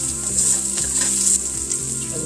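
Garlic cloves sizzle steadily in a pot as the base for beef stew, a continuous close, bright frying hiss with faint stirring scrapes running through it and no voices.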